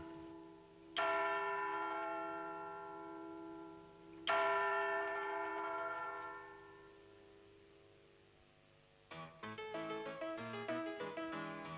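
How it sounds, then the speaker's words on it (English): Bells of the St Helens landmark clock tower ringing over the town, two loud resonant strikes with long decaying hums, followed by a quicker run of chimes near the end. "the bells of the landmark clock tower will continue to ring out over the town"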